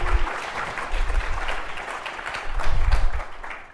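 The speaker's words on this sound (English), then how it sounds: "please give us a big round of applause to let the listeners know you're out there" A live studio audience at a podcast taping gives a round of applause, rising and swelling near the end, with bursts of cheering and no clear talk.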